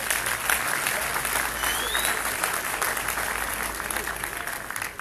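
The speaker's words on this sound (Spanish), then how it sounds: "Fuerte el aplauso, mis amigos." Enthusiastic audience applause at a motivational conference in Spanish, loud, dense clapping from a large crowd that continues steadily throughout.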